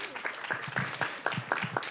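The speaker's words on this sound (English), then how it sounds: "Give her a round of applause, everybody." Audience applause at a county Board of Supervisors meeting, steady clapping from a room of people that holds an even level for the full length, with no talk over it.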